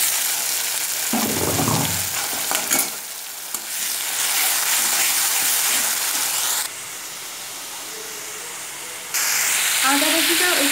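Onion, ginger and garlic paste with green chillies frying in a pan for a Bengali-style chicken curry with new potatoes, a steady loud sizzle and hiss with some stirring, continuing throughout.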